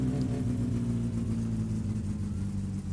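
A car engine idles steadily in the My Summer Car driving game, warming up with the choke in, a low continuous rumble holding an even pitch throughout with no talk over it.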